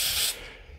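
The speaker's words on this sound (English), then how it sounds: "So I'm just going to go ahead and spray all these things." A short, close hiss of spray paint onto 1:35 scale model parts bursts out, then cuts off after a moment, leaving a faint fading hiss.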